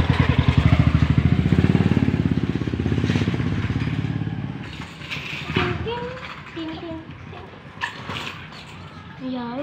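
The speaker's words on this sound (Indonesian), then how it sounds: "Awas motor." A motorcycle passes close by on an evening bicycle ride, its engine loud and pulsing for about four seconds before fading away, followed by children talking.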